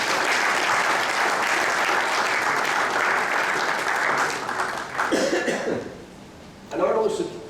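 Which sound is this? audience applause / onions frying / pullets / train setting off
audience applause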